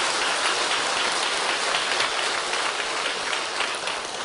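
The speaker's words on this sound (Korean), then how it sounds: "감사의 박수 한번 보내주시기 바랍니다" Steady, even applause from a church congregation thanking the pastor, a dense hiss-like wash of many hands clapping at moderate volume throughout, with no talk over it.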